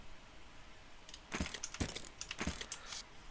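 Lock being picked with a needle in West of Loathing: a short run of small metallic clicks and jangly ticks, fairly close and crisp, starting after a quiet moment and clustering over about two seconds.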